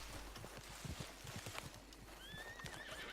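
Horse neighing and hoof clip-clop in the video game Red Dead Redemption 2 online, busy hoofbeats and a whinny throughout, with a rising high whistle-like call near the end.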